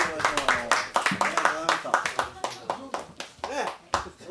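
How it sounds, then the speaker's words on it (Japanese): Hands clap in a quick, uneven series of sharp claps, close and fairly loud, with voices talking and a voice mixed in over the clapping. "拍手をやりました"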